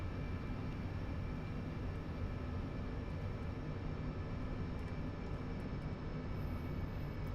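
A MiG-21 jet engine heard from inside the cockpit in the DCS flight game gives a loud, constant, dense roar with a steady whine running through it and no breaks.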